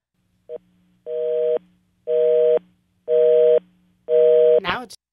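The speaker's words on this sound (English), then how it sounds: "Our third attempt to return the call was made from the Q Country studio and left us with just a busy signal." Telephone busy signal heard on a call back from a radio studio: a short blip, then four evenly spaced loud tone bursts of about half a second each, ending with a brief click.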